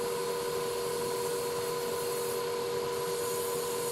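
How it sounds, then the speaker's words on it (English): Sanding a piece of wood makes a continuous, even abrasive rush over a steady mechanical hum, unbroken for several seconds with no talking. "There we go, a little bit of sanding."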